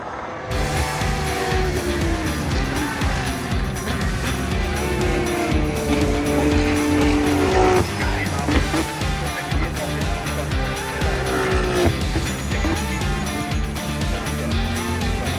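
DTM race cars at the Nürburgring roar past one after another, loud engines rising and falling in overlapping passes with a brief high whine, continuous and close throughout.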